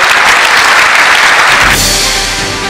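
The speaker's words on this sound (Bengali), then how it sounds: "আমরা জোরে করতালি দেই" An audience applauds loudly and continuously at a Bangladesh Christian Association golden jubilee celebration, a dense close wash of clapping that fades slightly at the end.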